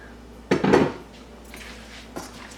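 A utensil scrapes and clinks against a bowl as onions are mixed with olive oil, with one loud burst of stirring near the start and a lighter tap near the end.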